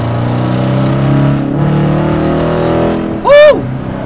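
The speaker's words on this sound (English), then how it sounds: "you got that aggressive V8 sound" Dodge Challenger R/T with a 5.7L Hemi V8 engine rumbling steadily at close range, then revving up sharply in a brief loud burst near the end.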